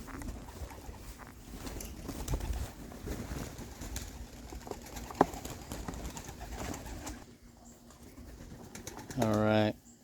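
Pigeons, young birds kept in a backyard loft, cooing softly and steadily at middle distance, with a louder burst of calls near the end and low outdoor background noise.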